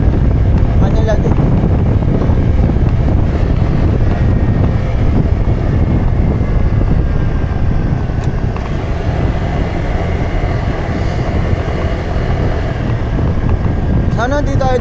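Steady motor rumble with heavy wind buffeting throughout, like riding on a motorcycle, with faint voices under the noise.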